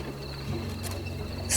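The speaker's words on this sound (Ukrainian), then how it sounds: "цвіркуни не поспішають закінчувати свою пісню" Crickets chirping on a quiet night in the Ukrainian steppe, a steady high trill set against a low hum, with a brief brighter burst near the end and no voices.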